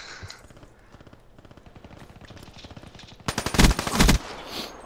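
Rapid automatic gunfire in a multiplayer shooter game, a steady rattling stream that swells into a louder, denser burst near the end, with no talk over it.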